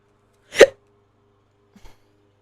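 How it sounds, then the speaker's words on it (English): A single sharp, close hiccup-like burst stands alone in a quiet room, followed a second later by a much fainter small catch of breath. "Oh, sorry, I have the hiccups."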